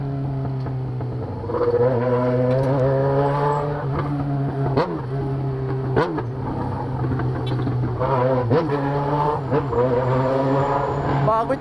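A green Volkswagen Golf engine roars loudly and close, holding a steady drone that swells as the revs climb and dip, with a voice talking over it.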